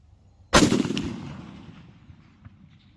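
A single loud rifle shot at an outdoor range, .308, 6.5 Creedmoor or 300 PRC, cracks sharply and rolls into a decaying echo lasting over a second.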